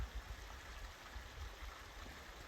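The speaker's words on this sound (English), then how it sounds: "There's a little, not really waterfall," A small trickling stream spills over rocks like a tiny waterfall in the Escudilla area, a faint, steady outdoor rush of water with low gurgles and occasional soft bumps.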